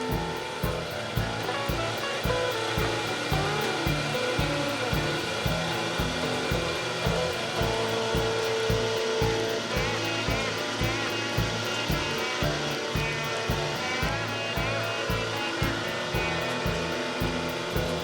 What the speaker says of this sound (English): Then we're going to run this mixture of the two together through that grinder one last time.